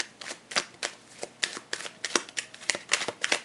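Tarot cards riffled and shuffled in quick, crisp bursts, a rapid run of papery flicks and snaps repeating about every third of a second, close and fairly loud with no talking.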